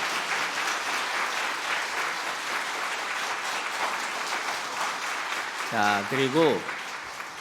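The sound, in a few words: church congregation applause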